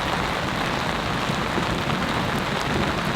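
Heavy rain pours steadily on a cot tent during a camping storm, a dense, loud hiss of drops with faint distant thunder rumbling beneath, no voices.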